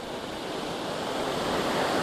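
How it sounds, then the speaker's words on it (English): Horsetail Falls, a double-tiered waterfall along the road to Valdez, Alaska, pours as a steady, dense roar of rushing water that slowly builds in loudness, with no voices. "this waterfall right here, this one is called Horsetail Falls"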